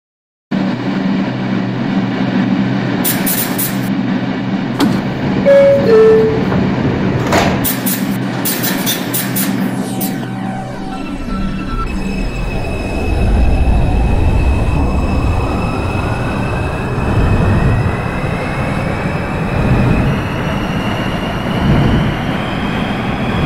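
A Bronx-bound 2 train on the New York subway runs loud and close with a steady rumble and clatter, then shrill wheel squeal and a rising whine as it picks up speed.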